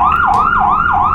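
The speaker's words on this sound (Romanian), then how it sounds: "Stai, stai, că se aude poliția, sper că nu după noi." Police siren from a truck-driving video game on a Romanian map, wailing in steady rising-and-falling sweeps, loud and continuous throughout with nothing else over it.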